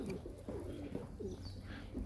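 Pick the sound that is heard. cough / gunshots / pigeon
pigeon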